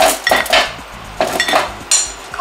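Pieces of pumpkin and sweet potato are set onto a foil-lined baking tray, giving close, bright clinks and clatters in a few quick bursts, with no voices.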